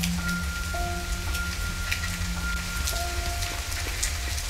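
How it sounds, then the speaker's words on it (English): Steady rain pours down in the survival game The Forest, a constant dense hiss close around the listener, with faint tonal game sounds drifting over it and no voices. "And quite suddenly rain, as if things could get any worse."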